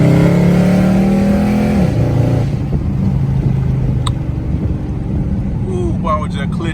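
A 2012 Dodge Charger SRT8 revs hard in manual mode, its engine note climbing steadily then dropping at a shift before pulling on with a lower drone, loud and close.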